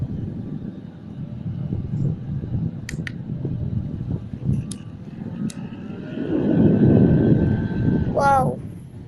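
A small electric mini fan runs at high speed, giving a continuous close whirring hum that swells louder near the end, with a few faint clicks.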